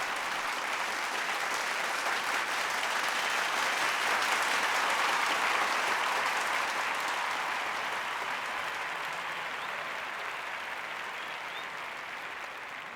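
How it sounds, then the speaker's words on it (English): Dense, sustained applause from a large audience welcoming a speaker at a religious congress, a steady roar of clapping that holds for the full stretch and eases off slightly toward the end. "a deafening applause of 2 minutes followed."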